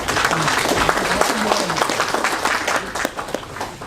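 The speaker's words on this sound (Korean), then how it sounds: "한 분 한 분 환영의 박수로 맞이해 주시면 감사하겠습니다" Audience applause welcoming guests at the 16th Nogeunri Peace Prize award ceremony, a steady dense clapping from a crowd that holds for several seconds with some murmuring mixed in.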